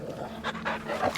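A dog panting in the video game Final Fantasy XVI, quick close breathy huffs repeating in short bursts over about a second.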